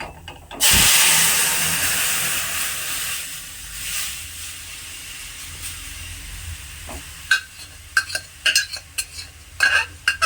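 A sudden loud burst of hissing sizzle as pea lentils hit hot tempering oil, fading to a gentle simmer, then a few clinks and scrapes of stirring.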